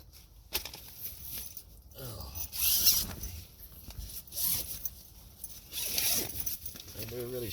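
A sleeping bag zipper is pulled in several quick, rasping bursts during a winter outdoor camp, close and fairly loud, with rustling fabric between the strokes.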